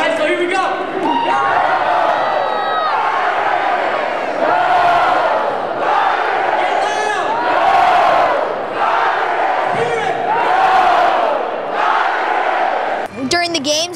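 A stadium crowd chanting the Go Irish cheer at a Notre Dame game, loud rhythmic call-and-response bursts repeating roughly every second or two, with roaring voices filling a large space.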